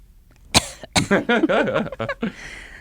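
A single sharp cough, followed by a brief throaty vocal sound, close to the microphone in a quiet room.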